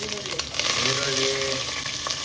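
Chopped onions fry in ghee in a pan for a homemade bisi bele bath, giving a bright, close sizzle that swells after a brief quieter start and holds steady.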